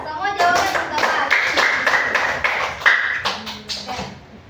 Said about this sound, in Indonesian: Oke, semua tepuk tangan.